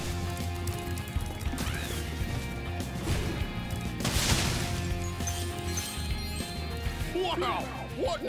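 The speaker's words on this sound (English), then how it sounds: "explosion!" A crashing explosion goes off in the video game Spyro 2: Ripto's Rage on the Trolley Troubles level, a loud broad burst about midway, heard over game music and sound effects while someone talks.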